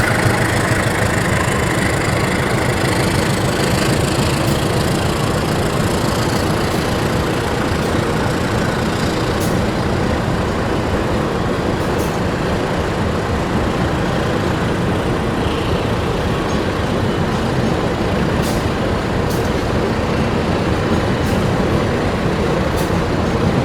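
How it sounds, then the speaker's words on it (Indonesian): Logawa passenger train of mixed premium and executive class, Dipo Bandung stock, pulling out of Purwokerto station: a steady, loud rumble of engine and rolling wagons holds without pause throughout, with no voices over it. "itu dia kereta api Logawa telah diberangkatkan dari stasiun Purwokerto"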